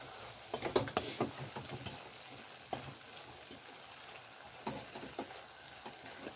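Garlic fries in a pan with a faint, low sizzle, broken by occasional stirring clicks and scrapes close by, quiet and unaccompanied by voices.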